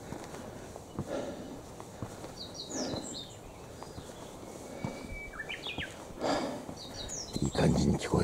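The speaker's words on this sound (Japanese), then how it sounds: "ここもやっぱりこのどっかにウグイスがおります。" Japanese bush warbler singing somewhere near a stone stairway leading up to the Sado magistrate's office in Aikawa, with a few short whistled phrases rising over footsteps and rustling on the steps.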